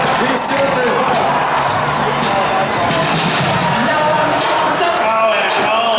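A fair crowd at a tuff truck street class event at the Clark County Fair cheers and whoops for a truck driver, steady loud roaring hubbub with shouts rising over it and a voice talking throughout.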